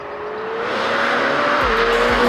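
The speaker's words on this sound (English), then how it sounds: "you move this knob to the right that opens the exhaust valves, and what you get are increased decibel levels. The engine comes alive" McLaren GT sports car with a 620hp engine and its exhaust valves open, roaring loud and close as the revs climb steadily, with a brief dip and a sharp exhaust crackle near the end.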